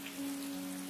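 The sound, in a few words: rain falling in video game Atelier Ryza 2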